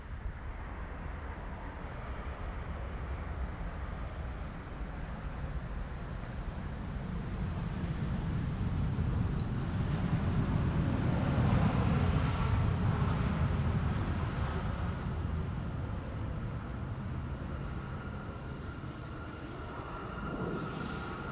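A Boeing 787-9 Dreamliner lands in windy weather at Amsterdam Schiphol on runway 18R. A steady jet roar builds to a loud peak midway, then slowly fades, with broad wind rumble throughout.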